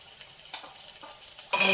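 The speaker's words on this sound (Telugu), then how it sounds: "ఇప్పుడు మనం కొంచెం అల్లం వెల్లుల్లి పేస్ట్ వేసుకుందాం." Ginger garlic paste for a tomato egg curry hits a hot pan near the end. After near-silence with faint clicks, a sudden loud burst of hissing sizzle breaks out.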